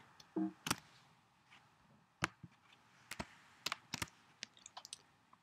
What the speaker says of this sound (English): on your keyboard, press Shift and F1